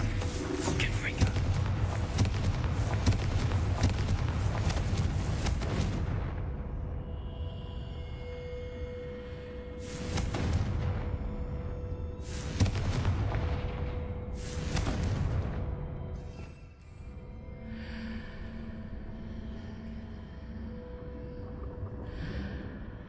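Confringo fire spell blasts from Hogwarts Legacy, several loud broadband bursts that decay quickly, heard over busy game music and effects, with a faint whisper-like texture beneath.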